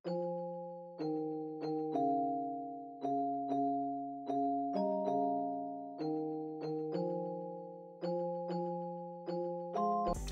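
A synth bell or pluck chord progression built in Logic Pro X for a bouncy melodic trap beat, with bright struck chords repeating in a steady rhythm, each ringing out and decaying before the next, clear and alone.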